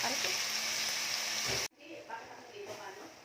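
Lean pork steak fries in hot oil with a loud, dense sizzle and spitting splatter, then cuts off abruptly and continues as a fainter crackle with scattered pops.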